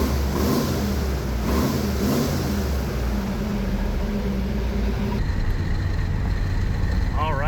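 Interior engine drone of a car with a freshly rebuilt engine cruising at about 55 mph, a steady loud road-and-motor rumble throughout with muffled voices mixed in.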